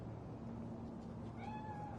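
A cat in Cyberpunk 2077's Night City gives a single short, faint meow late on, thin and drawn out over a steady low hum of city ambience.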